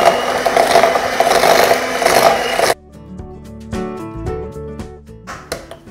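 Golden caster sugar and soft brown sugar being whisked together in a bowl make a steady, close gritty scraping for about three seconds, then it stops and quieter tonal sounds follow.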